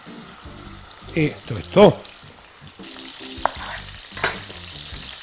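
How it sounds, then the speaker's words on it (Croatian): Seasoned hake laid into very hot oil, a broadband frying hiss that starts and holds after a few seconds, with someone speaking briefly before and a couple of light clinks. "sad na dobro vrelo ulje stavljam ovog oslića"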